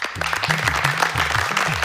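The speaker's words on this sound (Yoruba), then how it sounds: "Ẹ pàtẹ́wọ́ fẹ́mi náà." Applause during a Yorùbá children's quiz game show, dense clapping from an audience over a low, rhythmic musical or voiced tone underneath, steady and lively for the whole stretch.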